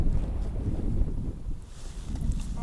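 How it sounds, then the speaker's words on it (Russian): Steady wind gusts buffet the microphone on a frozen lake during winter ice fishing in bitter frost, a continuous low rumble with no talk. "Сразу извиняюсь за ветер. Сегодня чуть-чуть ветер появился."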